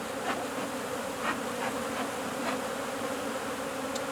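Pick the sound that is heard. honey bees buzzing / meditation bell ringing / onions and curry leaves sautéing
honey bees buzzing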